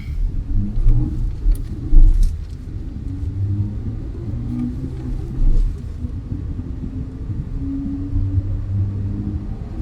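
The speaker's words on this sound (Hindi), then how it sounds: "अब देखते हैं हमारी 60 की स्पीड कितने सेकंड्स में पकड़ती है" Kia Sonet HTK+ car pulling away from a standstill up to 60, a steady low engine rumble and road drone that swells slightly as it gains speed, heard from inside the cabin.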